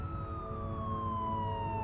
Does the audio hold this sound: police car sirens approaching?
yes